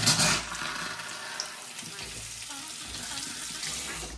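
A bathroom tap runs with a steady hiss of flowing water, a brief louder gush at the start, then a constant stream close by while someone talks over it.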